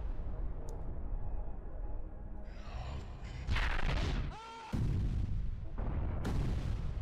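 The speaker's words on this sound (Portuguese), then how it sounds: "Uma explosão no meio da fuça." A cartoon explosion in the Skibidi Toilet animation series bursts out amid battle noise: heavy booms and blasts, a brief dropout, then another loud crashing burst.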